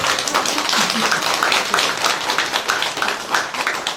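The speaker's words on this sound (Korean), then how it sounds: "박수 한번 쳐주시죠" A room of residents clapping at a community meeting with a district mayor, dense loud applause with sharp individual claps near the front, a few voices faintly mixed in.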